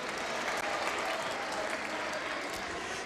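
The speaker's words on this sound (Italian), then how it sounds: "Allora un applauso ai Pulcini dell'Accademia." Audience applause for youth football players at a sports club event, a dense, continuous patter of many hands clapping at close range, with no talk over it.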